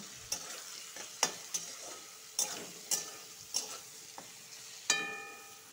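Potatoes frying in a pan with salt and turmeric, with sharp repeated clacks of a spatula striking and scraping the pan over a soft, steady sizzle, close and clear, with no voices.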